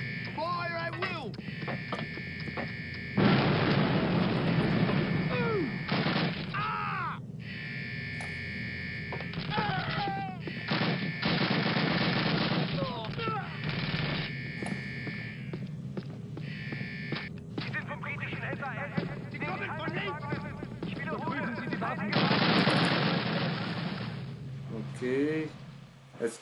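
Gunfire and explosions from the World War II shooter Call of Duty: United Offensive, with loud broadband bursts recurring across the clip amid a constant electronic hum and shouted voices.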